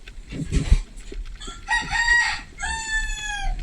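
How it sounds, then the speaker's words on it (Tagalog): A rooster crows twice in close succession, loud and near, with some clucking and background rustle before the first call. "Sigaw lang ng sigaw, mga manok."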